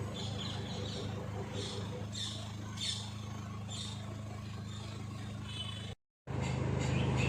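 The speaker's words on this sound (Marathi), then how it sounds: "मस्त असे पक्ष्यांचे आवाज." Birds chirp in short, repeated bursts during a May rain shower, sounding fairly faint over a steady background hiss before a brief cut near the end.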